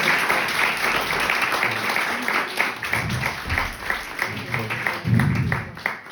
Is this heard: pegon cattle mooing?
no